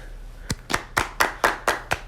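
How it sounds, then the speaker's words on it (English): An audience claps in a slow, steady rhythm to welcome a guest, about seven distinct, evenly spaced claps that sound like a small group or a few close hands rather than a large crowd. "So let's give him a round of applause."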